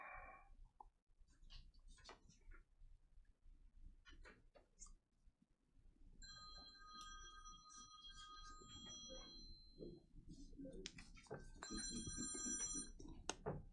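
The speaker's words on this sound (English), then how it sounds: "Sir, would you turn your phone off?" A telephone rings during a finance committee meeting: repeated electronic ringtone bursts come through over the quiet hum of the room, with brief scattered noises in between.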